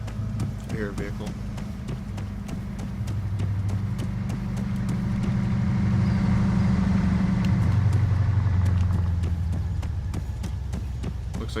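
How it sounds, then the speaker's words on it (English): In the video game Arma 3, a vehicle engine rumbles in as a low hum that swells over several seconds and then fades, heard beneath faint clicks and game noises. "I hear a vehicle."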